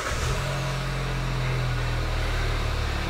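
A Kia Rondo with the hood open idles right after starting, a steady low engine hum held evenly and close throughout with no talk.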